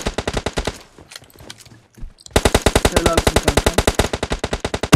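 Rapid automatic gunfire in PUBG Mobile on the Sanhok map, loud and close, one long burst, a short pause, then another long sustained burst, with a brief spoken word in between.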